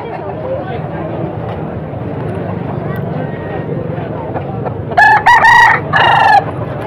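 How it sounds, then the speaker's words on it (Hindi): An Aseel rooster at a bustling Pakistani poultry market crows loudly near the end, its call breaking through steady crowd chatter and background murmur. "ये भी असील मुर्गा"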